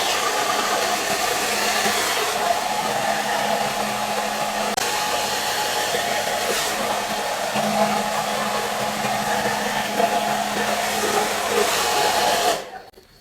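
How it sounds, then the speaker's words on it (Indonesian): A hair dryer runs with a steady, loud whooshing hum for about twelve seconds, then cuts off abruptly at the end. "ini hair dryer tuh nggak bisa nyala lama-lama"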